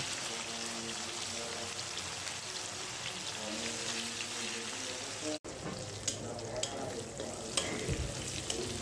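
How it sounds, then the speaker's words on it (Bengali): Chicken pieces fry in hot oil for a biryani, a steady loud sizzle throughout, broken by a brief gap before the stirring and bubbling resume with a few clinks. "তারপর আমি তেলে মাংসগুলো ভেজে নিলাম।"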